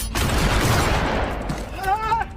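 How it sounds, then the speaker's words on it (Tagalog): Intense exchange of gunfire in a film's action scene, a loud dense barrage of overlapping shots lasting a couple of seconds, with a brief whistling, ricochet-like tone near the end. "nagkaroon sila ng matinding labanan at palitan ng putok"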